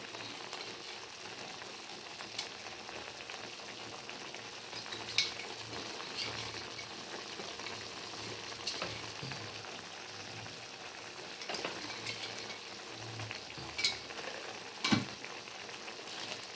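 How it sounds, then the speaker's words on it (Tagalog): Homemade beefsteak sauce simmering in a pan, a soft steady bubbling and sizzle running throughout with a few faint clinks, low and continuous with no talking. "Ayan, kumulo na siya."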